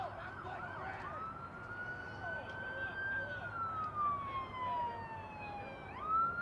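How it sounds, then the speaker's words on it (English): An ambulance siren wails past at a university baseball game, a rising and falling tone fairly distant and steady under faint crowd murmur. "I'm assuming you can all hear that ambulance that drove by."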